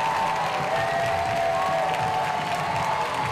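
A loud, continuous roar of cheering and applause fills an NWSL soccer stadium after a goal in a North Carolina Courage versus Chicago Red Stars match, with a few whistles and whoops standing out.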